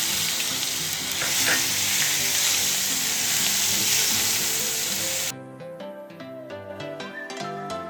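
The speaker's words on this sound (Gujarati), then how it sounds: "બે છે ને ડુંગળી મેં ખમણેલી લીધી છે એને પણ આપણે એડ કરવી વઘારમાં થોડે" Grated onion frying in hot tempering oil with curry leaves, a strong, steady close sizzle that suddenly drops to a softer bubbling crackle with light stirring, no talk.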